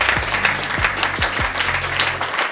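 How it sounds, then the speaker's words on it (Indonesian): A comedy roast audience claps loudly in a dense burst of applause, with a few low thumps and some crowd noise under it. "Kita kasih tepuk tangan untuk Jovi dan Dovi."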